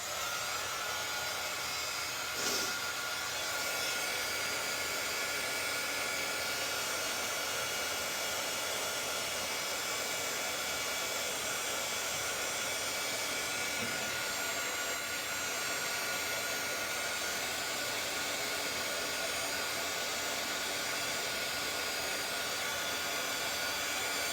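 A steady, loud blowing whir of a hot-air heat tool used for embossing runs continuously, a constant airy hiss with no pauses.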